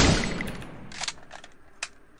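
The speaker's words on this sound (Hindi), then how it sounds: "मैंने जस्ट ऐसी गोली मारा" Gunfire in the mobile battle royale game Free Fire: a loud opening volley followed by a few sharp, separated shots, heard close with no talking.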